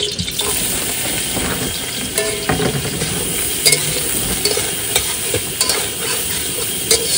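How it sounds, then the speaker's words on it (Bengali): Boiled soybean chunks fry in hot mustard oil in a wok, making a steady, loud sizzle throughout with occasional clicks of stirring. "প্রথমে ভাজা করে নিতে হবে সয়াবিনটা। তেল গরম হয়ে গেছে,"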